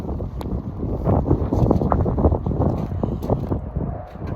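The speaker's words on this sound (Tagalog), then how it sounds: "Lakas pa ng hangin." Strong wind roars and buffets the microphone continuously, with gusting low rumble throughout and no talking.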